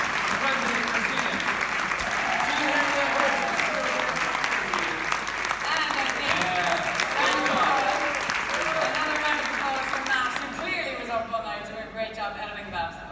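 Crowd applause for a president at a morning show event, clapping mixed with voices and chatter throughout, tapering off as talk takes over near the end.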